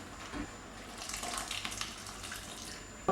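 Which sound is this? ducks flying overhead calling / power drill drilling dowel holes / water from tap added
water from tap added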